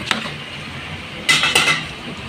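Pork adobo is stirred in a cooking pot, a spoon scraping and clanking against the metal in two short bursts over a quiet simmer, close by with no talk.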